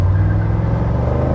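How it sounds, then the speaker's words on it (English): A 1985 Mercedes 500SEC engine revs hard and accelerates up close while floored through a turn, a steady low rumble and roar throughout, with a little tire squeak. "Got a little tire squeak out of it."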